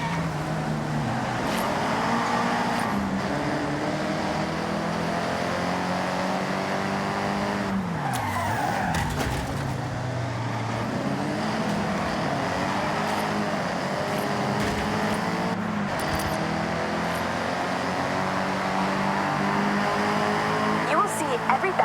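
An all-Nissan convoy of cars drives through Forza Horizon 6 with a steady engine drone and a brief tire screech midway, while a voice talks over the traffic.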